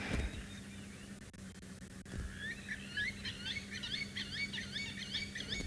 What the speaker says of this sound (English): All the birds sing